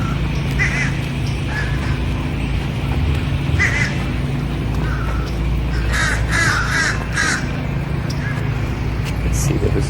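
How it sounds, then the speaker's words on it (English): Black crows caw outdoors in repeated bursts of harsh calls, scattered over ten seconds above steady background noise, with someone talking at times. "Those are crows, the black crows."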